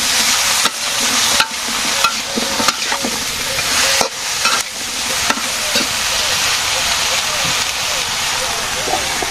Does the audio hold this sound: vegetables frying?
yes